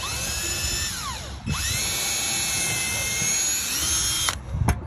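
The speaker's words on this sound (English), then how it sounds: "I'm gonna go ahead and pre-drill all the holes all over the place." A high-pitched power drill whines steadily while pre-drilling holes in a boat to install a recessed foot pedal tray, its pitch dipping and rising as it bites in, with a brief pause and short bursts at the end.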